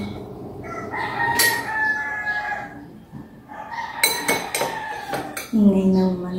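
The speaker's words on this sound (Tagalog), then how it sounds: "Ingay ng manok." A rooster crows repeatedly nearby during a meal of chicken adobo, its calls overlapping the clatter of dishes and cutlery and people chatting.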